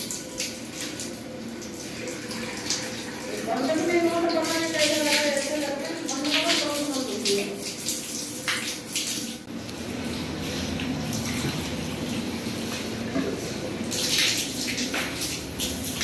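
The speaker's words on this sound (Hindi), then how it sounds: "ये पानी आने लगा है" Water gushes and splashes from a household pipe once trapped air is released, a steady close rushing flow with someone talking over parts of it.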